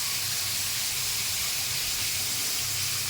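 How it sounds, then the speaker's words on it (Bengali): Potatoes sizzle in hot oil in a wok as Bengali fish curry is started, a steady, loud frying hiss running unbroken throughout with no talking. "তেলের মধ্যে সিমলার আলুটাকে একটু সময় ভেজে নিতে হবে"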